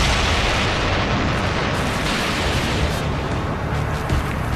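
Explosives detonated by a German soldier on a fort turret at Fort Eben-Emael, Belgium, in archival wartime footage: a dense, continuous roaring blast and rumble, loud and steady throughout, with no voices over it.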